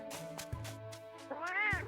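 A cat meows in the Arknights and Monster Hunter crossover game, giving one clear rising-and-falling meow near the end after softer purring chirps, close and alone over a quiet game backdrop.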